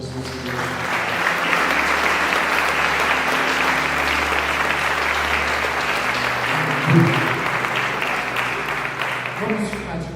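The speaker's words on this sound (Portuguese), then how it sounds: "Vamos aplaudir o Senhor Jesus." A church congregation applauds during an evening worship service, with steady, dense clapping that fills the whole stretch at an even loudness over a low sustained musical tone and scattered voices.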